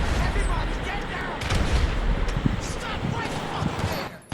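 Grenade explosion and gunfire in the video game GTA 5: a dense, loud rumbling blast with scattered sharp shots and crackling debris over it, while someone talks throughout.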